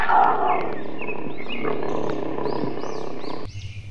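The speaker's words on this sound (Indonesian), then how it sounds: "Wow, ada harimau Sumatera," Roars and growls from a Sumatran tiger mixed with crowd chatter and bird-like calls, ending abruptly with a low rumble.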